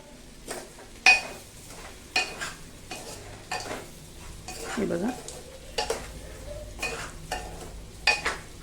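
Rice fries in oil in a pot under a soft sizzle, with repeated sharp spoon scrapes and clinks against the metal as it is stirred at a steady, irregular pace; no speech.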